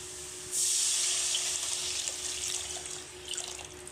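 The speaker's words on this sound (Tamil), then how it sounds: "புளி கரைச்சி ஊற்றுவோம்" Tamarind water is poured steadily into a hot pan for fish curry, a sudden hissing splash that keeps running for a few seconds before tapering off.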